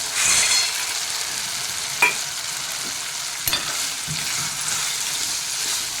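Onions go into hot oil and masala in a pan for sandge bhaji. A close, continuous frying sizzle is broken by a few sharp scraping knocks as the spatula stirs.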